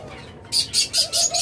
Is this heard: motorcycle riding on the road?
no